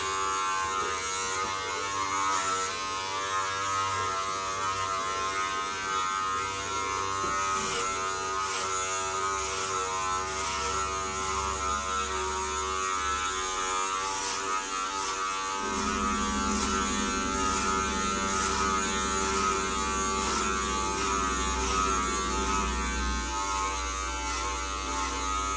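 Electric hair clippers buzz continuously and close up while someone trims their own hair, the motor tone shifting slightly as the blades move through hair, with no talking.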